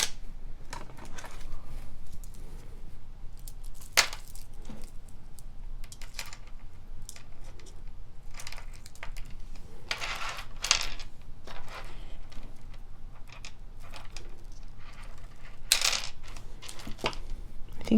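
Small crystal and glass beads clink and rattle as packets are cut open and handled, bright scattered ticks and taps with a few louder clatters, close and quiet, no talking.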